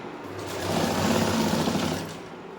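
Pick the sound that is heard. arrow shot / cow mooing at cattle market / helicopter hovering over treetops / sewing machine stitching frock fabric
sewing machine stitching frock fabric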